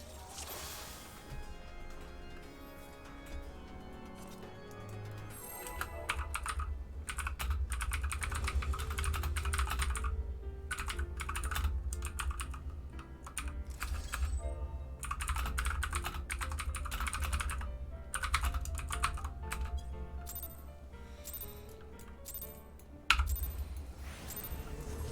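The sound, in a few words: typing on a computer keyboard into chat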